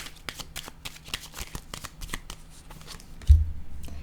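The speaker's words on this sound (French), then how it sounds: "Je vais déposer une carte ici sur le hors-la-loi." Tarot cards handled on a table: a rapid run of soft riffling and flicking card sounds, closing with a duller thud as one is set down.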